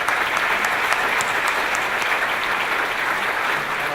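A large audience at a 2017 San Antonio mayoral vision event claps steadily and warmly for the new mayor, a dense, even wash of applause from a crowded hall.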